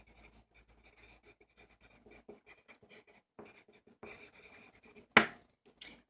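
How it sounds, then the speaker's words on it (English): Faint pen scratches of someone jotting a note on paper, short quiet strokes in irregular bursts, followed by a sharper knock near the end. "Let me write that down so I don't forget y'all."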